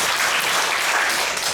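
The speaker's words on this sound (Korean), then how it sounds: "세 분 우리 박수로 환영해 주시면 좋겠습니다." An audience at a lecture event claps to welcome three guests, dense and loud applause sustained throughout with no talking.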